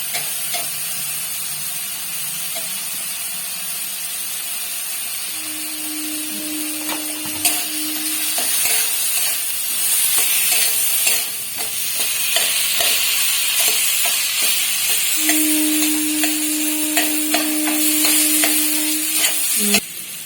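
Boiled potatoes frying and being stirred in a pan, a steady broadband sizzle with repeated scraping stirs and two sustained tonal hums partway through, loud and close with no talk.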